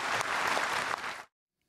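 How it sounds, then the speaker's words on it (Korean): A large audience applauds a retiring Korean Joint Chiefs of Staff chairman at a formal farewell event, giving a dense, close burst of clapping that stops abruptly after about a second. "여러분 다시 한번 큰 박수를 부탁드리겠습니다"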